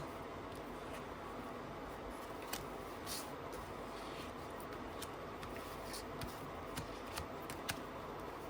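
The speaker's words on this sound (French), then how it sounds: "Je vais positionner d'autres cartes." Tarot cards shuffled and set down on a surface, soft rustling and light slaps at a steady close level, with no speech.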